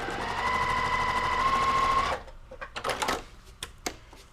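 A sewing machine stitches a quilt block in a fast, steady whirring run for about two seconds, then stops, leaving a few light clicks and handling taps of fabric.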